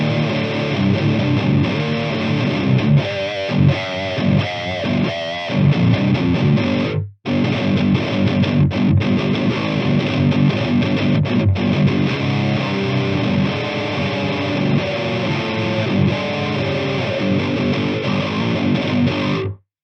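Electric guitar plays heavily distorted riffs through an Oh My Goat preamp pedal, thick and saturated, with a brief pause midway before chugging on.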